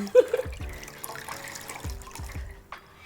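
Warm water trickling and splashing during an at-home spa pampering session, with soft intermittent pours and drips close by over about three seconds, no talking.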